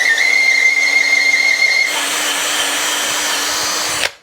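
A loud, continuous high-pitched whistle from a spinning cutter on metal, shifting to a harsher broadband screech midway before stopping abruptly.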